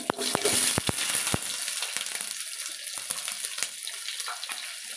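Whole biryani spices dropped into hot oil for chicken pulao, with a few sharp pops and crackles at first, then a steady, moderate sizzle that keeps going without any talking.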